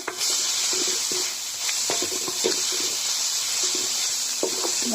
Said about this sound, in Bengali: আমরা ভেজে রাখা মাংসটা দিয়ে দিচ্ছি দিয়ে আমাদের ভালো করে ভেজে নিতে হবে